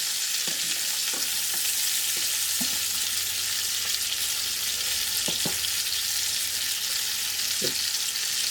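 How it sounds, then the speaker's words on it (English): Pork chops fry in a pan with a steady, continuous sizzle, broken now and then by brief clunks and scrapes as they are turned, close and fairly loud with no voices. "Turn the pork chops a couple of times, because we do want them mostly cooked."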